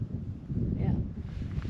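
Wind gusting across open fells, a low steady rumble buffeting the microphone, close and fairly loud throughout.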